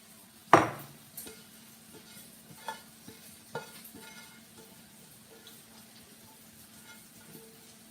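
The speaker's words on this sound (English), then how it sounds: "in a large skillet, melt the butter over medium heat and then add the garlic and the onion" Butter sizzles gently in a large skillet over medium heat with garlic and onion added, a soft, steady frying hiss broken by an initial clatter and a few scattered utensil taps, without talk.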